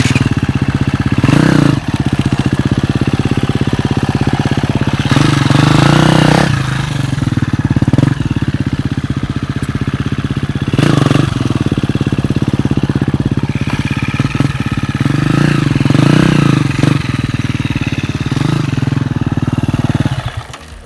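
A motorcycle engine runs steadily through slow, low wheelies at a walking pace, loud and near, with repeated throttle blips swelling over a constant idle-like drone.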